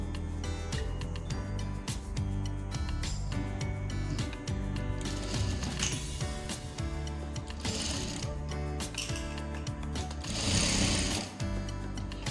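A sewing machine stitches cloth for straight-cut tops, sewing the seam from the inside; a close, continuous mechanical whirring runs in uneven bursts and pauses over a steady tonal background.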